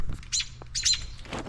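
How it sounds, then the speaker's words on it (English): An American robin, the mother bird beside her nest, gives a few short chirping calls in two close bursts, moderately loud outdoors with faint background noise. "That's the mother robin right there."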